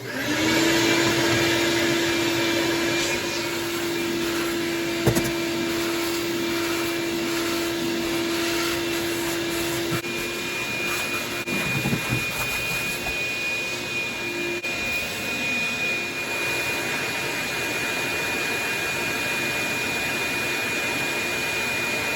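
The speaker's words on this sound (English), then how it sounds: "So let's get this vacuum fired up." A vacuum cleaner runs steadily inside the cabin of a 1953 Pontiac that has been sitting in a field, a loud continuous whine with a high tone and small shifts as the nozzle moves, no talk.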